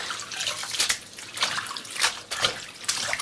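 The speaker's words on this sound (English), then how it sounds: "I always rinse mine once because these don't carry a lot of sand" Callaloo leaves rinsed by hand in a basin of water, with repeated splashing swishes and drips in irregular bursts, close and clear with no talking.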